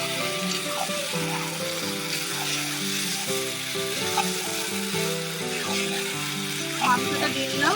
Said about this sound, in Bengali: তো এবার কিন্তু আমি মাংসটা দিয়ে দিচ্ছি।